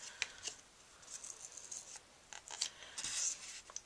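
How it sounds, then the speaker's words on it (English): Scissors snipping a scrap of sheer white 1/8-inch ribbon trim for card making: several quiet, close crisp cuts with light rustling of the material between them. "So I'm just going to cut a scrap of that."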